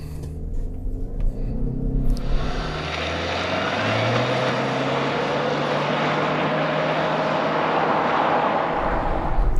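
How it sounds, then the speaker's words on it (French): A 2022 Subaru Outback Wilderness with a CVT accelerates hard, the engine settling into a steady, droning roar as speed builds, heard from inside the cabin with a rising tire and wind rush and no talk. "je vais tester l'accélération de la Outback Wilderness"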